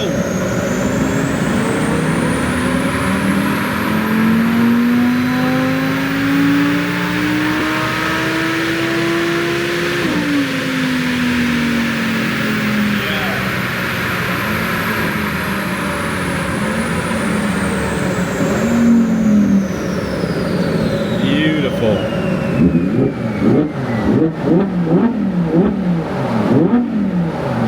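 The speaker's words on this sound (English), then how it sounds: "Shall we see if we can hear a bit of the V10 symphony?" A V10 engine revs hard toward 9000 rpm, its pitch sweeping up and falling back in long, loud howls, then breaking into rapid, choppy throttle blips near the end, with a brief spoken exclamation over it.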